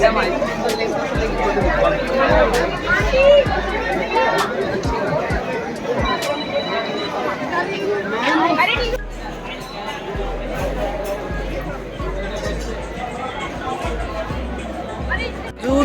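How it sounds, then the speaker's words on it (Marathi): Busy crowd chattering at the Indore Sarafa night food market, a steady babble of many overlapping voices close around, with nearby talk and occasional clatter running throughout. "हे बघा गर्दी किती आहे"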